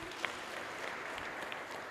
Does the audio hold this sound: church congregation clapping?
yes